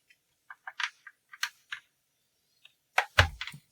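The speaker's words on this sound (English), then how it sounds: "This is the keyboard." Keys clack on a Commodore 64c keyboard in a quiet room, a scattered run of light taps followed by a few heavier, louder presses close to the microphone.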